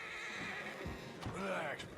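A horse whinnies in a video game, a rising and falling neigh with faint hoof clatter, set amid busy game ambience while people talk over it.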